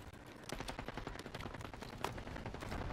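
Rapid automatic gunfire in a video game battle, dense overlapping shots crackling at moderate level, with one sharper report standing out near the middle.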